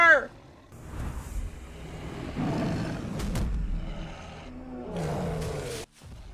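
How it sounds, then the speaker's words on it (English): A tiger's roar from the film RRR, a deep rumbling growl swelling over several seconds in a movie soundtrack, with brief shouts and reactions from viewers. "Tiger!"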